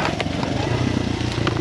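A Honda XR100R dirt bike ridden along a wooded trail, its engine a dense, close, steady rumble with slight crackle throughout.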